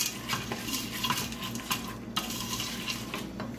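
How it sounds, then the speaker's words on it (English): Rice and spices being stirred in golden brown ghee in a pot for kitchari, with a steady metallic clinking and scraping of a utensil against the pot over a soft background sizzle. "After we were stirring it for a couple of minutes in that golden brown ghee"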